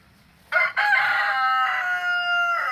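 Close-range rooster crows at an old chicken coop, a single long, loud crow that starts abruptly and holds for about two seconds over quiet background.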